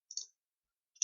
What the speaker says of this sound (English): Now I change those names by double clicking on the text.